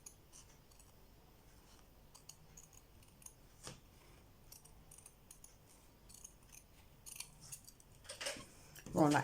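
Scissors snip around the edge of a finished cross-stitch piece, small quiet clicks spread through the clip, growing louder toward the end, with soft talk alongside.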